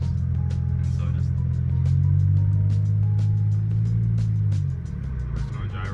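A used car on a short test drive around the block, its engine a steady low hum from inside the cabin that swells briefly as it speeds up, then eases off, with light clicks and road noise.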